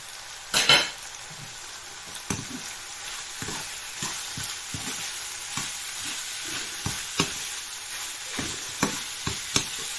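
Pork fried rice with curry powder is stir-fried in a pan, producing a continuous sizzle broken by repeated scraping and tossing strokes from a utensil at an irregular rhythm, close and fairly loud.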